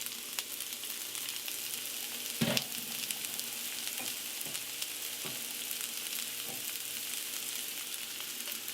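Onion sizzles in a hot skillet for a sweet potato, kale and shrimp dish, giving a continuous crackling fry with a sharp burst as it goes in and a few later pops.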